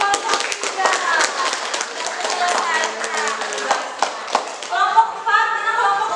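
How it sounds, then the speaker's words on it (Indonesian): A classroom of students claps for a group, uneven bursts of hand claps and taps mixed with chatter and voices throughout. "kita beri tepuk tangan untuk kelompok 3"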